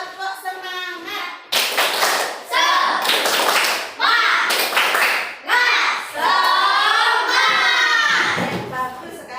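A classroom of children claps a rhythmic 'tepuk semangat' pattern in quick bursts, with chanted voices between and over the claps.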